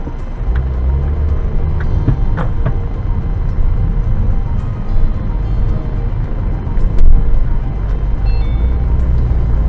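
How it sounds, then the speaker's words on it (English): Car driving, recorded through spy camera sunglasses worn in the cabin, a constant loud engine and road rumble with small bumps and clicks, steady throughout. "Video recording during driving."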